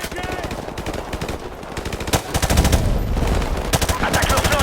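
Rapid machine gun bursts in Call of Duty Modern Warfare Remastered campaign, dense automatic fire with sharp gunshot cracks throughout, growing louder and heavier midway amid battle noise.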